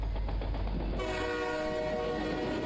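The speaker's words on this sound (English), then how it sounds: "so we're on a train. In a casket." A moving train inside the horror game Neighborly Love, heard from within a casket: a steady low rumble gives way after about a second to a sustained, tonal rail screech with a rolling clatter underneath. It is loud and continuous, with no talking.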